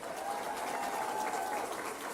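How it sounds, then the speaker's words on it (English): A crowd at Fiesta Media Day in San Antonio breaks into applause, a steady, fairly loud wash of clapping lasting the whole moment. "Give him a round of applause."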